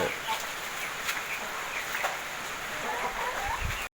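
Chickens cluck in a poultry coop over a noisy, hissing outdoor background, with faint voices here and there.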